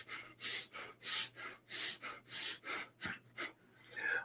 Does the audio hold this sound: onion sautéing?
no